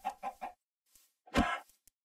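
A chicken in Minecraft gives three quick clucks, then a louder, longer squawk after a short pause, close and clear with no voices.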